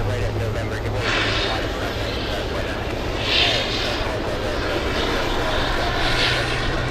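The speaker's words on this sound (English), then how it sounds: "A takeoff on runway 15 right." An airliner takes off from runway 15 right at Boston Logan International Airport, a steady, loud engine roar that keeps going without a break. Faint swells are heard near the top, and a voice talks over the roar.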